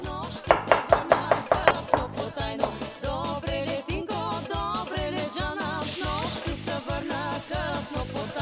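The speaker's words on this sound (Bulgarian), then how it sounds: "Нарязвам ги на дребно и слагам в малко олио да се запържи." A knife finely chops leeks on a cutting board in a quick, steady run of repeated thuds, close and distinct, under a tonal background that sounds like music.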